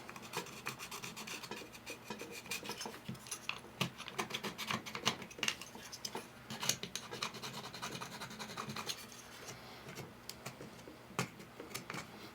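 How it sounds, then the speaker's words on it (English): A small flat screwdriver chips and scrapes debris off a hot tub pump seal seat, giving a quiet, close, irregular run of raspy scratches and ticks with no talking. "Take a little flat screwdriver and kind of chip this trash off of here so you get a nice"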